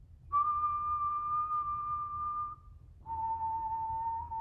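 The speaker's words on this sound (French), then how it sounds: "Et si je siffle maintenant plus aigu" A person whistles two sustained, steady notes, the second pitched a little differently after a short pause, clear and close with no other sound.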